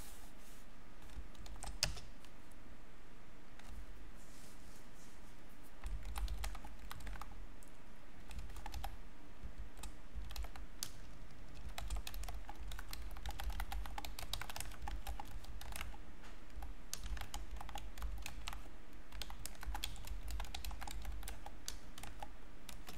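Steady run of keyboard clicks and keystroke bursts from a computer keyboard during a gaming webcam stream, close and continuous for the whole stretch with no talking.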